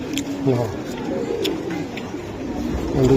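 Racing pigeons in a loft give soft, low cooing calls, scattered and close, under ongoing conversation in the background.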